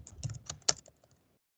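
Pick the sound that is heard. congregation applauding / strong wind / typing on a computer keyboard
typing on a computer keyboard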